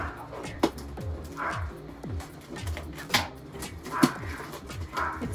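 A dog barks outdoors near the sea on a rainy day, giving a few sharp, separated barks over a steady background hiss.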